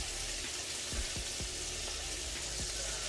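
Peppers and onions fry in a pan for a jambalaya dinner, giving a quiet, steady sizzle with a few soft stirring knocks and crackles.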